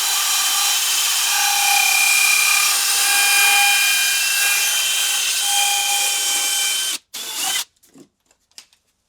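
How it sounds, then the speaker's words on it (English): Steady high-pitched whine of a drill boring a hole in a flat-bottom shower pan for tiled shower installation, loud and continuous for about seven seconds before stopping abruptly, followed by a few small clicks and knocks. "just start drilling. And I'm going to go in a clockwise motion"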